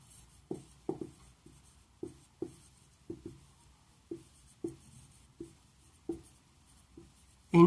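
A pen or chalk writes a definition on a board in a classroom lesson, producing a string of short, distinct taps and strokes at irregular intervals, close and fairly quiet with no talk.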